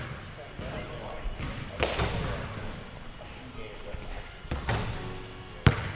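Basketball shots during a gym warm-up: a few scattered thuds and slaps of the ball, the sharpest near the end, over a steady murmur of room noise.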